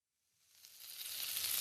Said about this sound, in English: Here's more mirepoix. Let me add it to the heated pan.